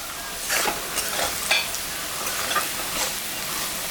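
Onions sizzle in a hot pan with steady crackling as turmeric and salt are added, punctuated by scraping stirs every half second or so, close and moderately loud.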